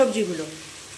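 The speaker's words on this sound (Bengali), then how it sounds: "এগুলি সবজিগুলো দিয়ে ভালো করে কষে নেবে।" Vegetables sizzle with frying spices in a pan, a steady hiss with a faint tonal hum in the background, brief and fairly close.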